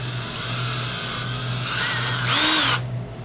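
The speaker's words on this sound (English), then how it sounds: "I'm going to drill that right there." A power drill bores a small pilot hole for mounting a P-clip on a NuCanoe Frontier 12 kayak, a steady close whine that rises in pitch and then cuts off abruptly near the end.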